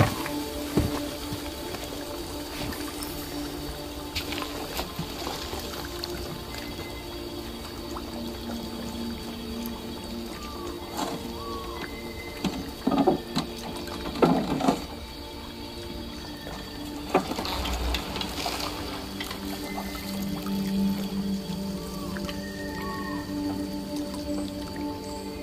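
Boat cruising across calm water in the video game Detroit: Become Human, with soft, steady lapping and splashing over a continuous ambient bed, a few louder splashes standing out midway.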